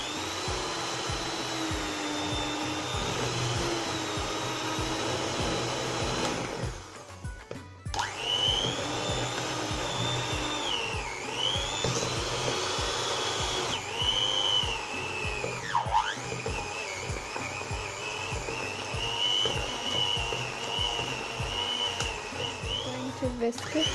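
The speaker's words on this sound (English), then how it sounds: "I'm going to add my sugar, and then we're going to whisk it with this whisker." An electric hand whisk beats butter and sugar together for a blueberry cake batter, giving a steady, close motor whine whose pitch bends and dips as the beaters move through the mix, with a short pause near the middle.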